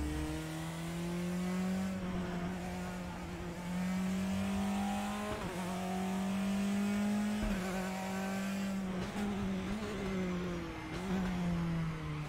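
A race car engine in the RaceRoom racing game holds full throttle in sixth gear, a loud steady drone with small pitch dips and rises and brief shifts in tone, running continuously without talk.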